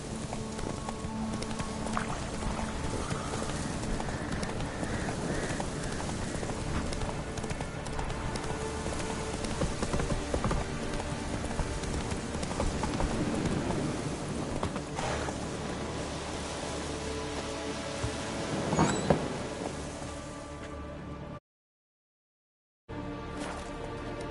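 Horse hooves galloping in The Witcher, a steady rhythmic clip-clop that runs continuously at close range under ambient game sound, briefly cutting out near the end.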